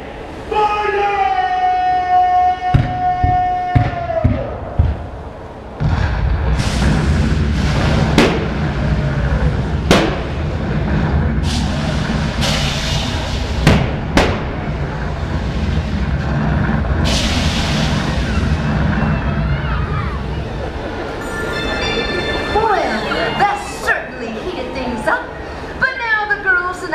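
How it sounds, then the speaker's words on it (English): Loud booming blasts go off one after another, like cannon fire, mixed with music and shouting voices and a siren-like wail. "Men, on my command, fire all cannons. Fire!"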